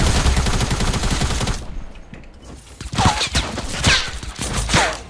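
Pistol gunfire in a shooter video game: a rapid string of loud, sharp shots, then a short lull and a few more scattered cracks with game effects.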